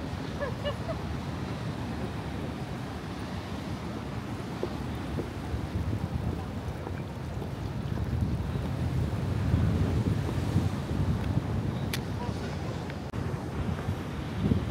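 Wind buffets the microphone over a steady rush of water waves, a dense broadband roar that swells slightly midway through and continues without pause.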